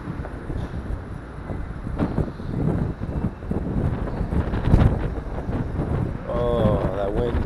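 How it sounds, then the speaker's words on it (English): Gusty wind blowing outdoors on a Budapest street, buffeting loudly and steadily across the whole span with rumbling low noise. "that wind really picks up"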